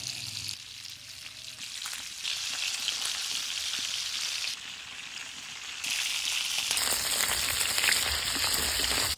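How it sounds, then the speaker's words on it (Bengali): Fish sizzles as it fries in hot oil, a crackling hiss that swells louder partway through and keeps going with no talking. "তেল গরম হয়েছে, মাছ দিয়ে দিয়ে"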